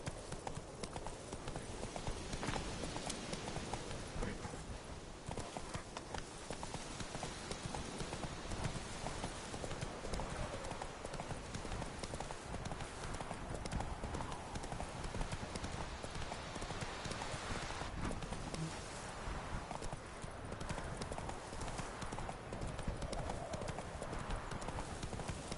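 Hooves of Geralt's horse Roach in The Witcher 3 clatter in a constant fast clip-clop, dense and unbroken for the whole stretch, with a rain-like hiss mixed underneath.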